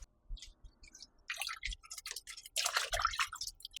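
Three pounds of oxtail being washed in a bowl with lime and vinegar, giving irregular wet splashes and drips that build into a louder, busier stretch of sloshing near the end, with no talking.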